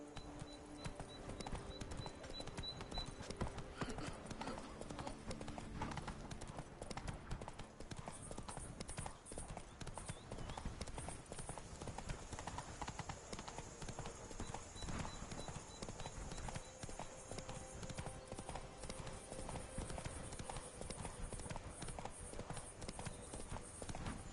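Roach, a horse in The Witcher, gallops with a continuous rhythmic clip-clop of hooves that stays fairly quiet and steady throughout, with a faint voice occasionally heard.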